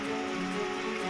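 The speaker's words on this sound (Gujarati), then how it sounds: "શહેર સહિત આસપાસના વિસ્તારોમાં વરસાદ જામ્યો" Rain falling in Dahod, Gujarat, a dense, even hiss of drops on surfaces with no breaks over about a second.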